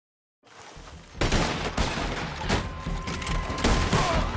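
Gunfire from a shootout in Red Dead Redemption 2, beginning after a brief silence and building into a dense, continuous volley of loud, overlapping shots and heavy booms.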